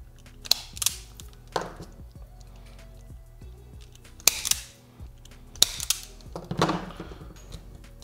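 Sharp, scattered snips and crunches of a stripping tool biting through extension cord insulation to ready wire ends for power pole connectors, several separate cuts spread out over a few seconds, close and fairly quiet, with no talk.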